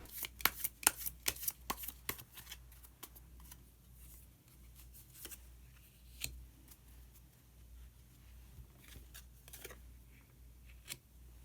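A shuffled deck of tarot cards being handled and drawn, with a cluster of crisp card snaps and flicks early on, then sparser soft clicks and rustles in a quiet room.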